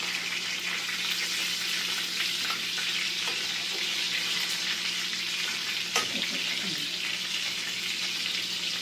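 Breaded chicken parmesan cutlet fries in a pan with a steady, close hiss and sizzle that holds evenly throughout, with a few faint knocks near the end.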